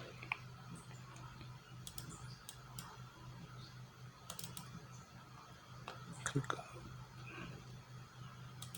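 Sharp computer mouse clicks, several scattered single and double taps, faint and close, over quiet room tone while setting up a daily trading chart.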